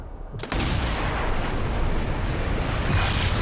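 A shot destroys a tank in the video game Sniper Elite V2: a sudden loud blast erupts after a brief quiet moment and rolls into a sustained, heavy rumbling roar.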